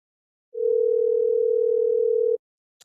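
A telephone ringback tone sounds while a call is placed: one steady, unbroken tone lasting nearly two seconds, clear and alone, followed by a tiny click.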